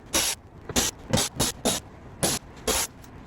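Bursts of a power tool whizzing out the 8mm under-tray bolts on a BMW E82, seven short, loud, hissing spins in an irregular quick series with brief gaps between them.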